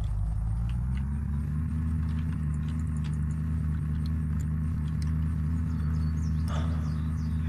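Car driving in the video game Unturned, a steady loud low engine drone with rattling clicks on top, unbroken throughout with no speech.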